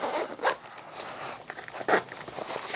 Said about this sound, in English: it secures with a button at the bottom and zips up nice and neat.